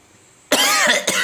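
A sudden harsh cough bursts in after a quiet moment, followed by a second shorter cough, loud and close.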